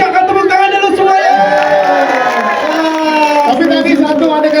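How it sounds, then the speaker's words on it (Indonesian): An audience at a film press conference cheers and whoops loudly and continuously, with overlapping voices and shouts filling the room rather than distinct clapping. "tepuk tangan dulu semuanya"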